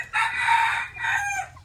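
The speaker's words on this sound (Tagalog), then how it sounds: "Yan po yung kanyang tilaok mga idol." A Talisayin rooster crowing once nearby, a loud drawn-out call with a brief dip before its trailing final note, alone without talk.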